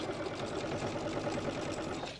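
A sewing machine runs steadily, stitching a quilted placemat at an even, continuous hum with a close, buzzing texture and no talk.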